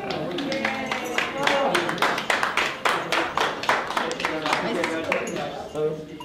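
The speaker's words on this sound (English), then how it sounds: "a round of applause" Guests at an alumni dinner in Ottawa give a round of applause, a scattered, rhythmic clapping of many hands that holds steady for several seconds, with voices talking over it.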